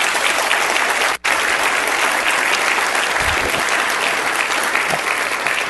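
Audience at a conference on building healthier communities giving a sustained round of applause, a dense even wash of clapping from many hands with no voices over it.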